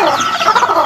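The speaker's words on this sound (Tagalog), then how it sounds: "ang pure na basilan. Basilan na manok." Clucking from a pure Basilan native chicken, a black-legged bird of over 2 kilograms, heard up close as a short run of steady, soft clucks with no talking.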